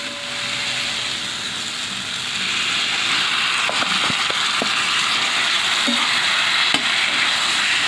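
Marinated chicken hitting a hot pan over onions already frying, giving a steady, close hiss of sizzling oil with a few light utensil clinks and scrapes on top.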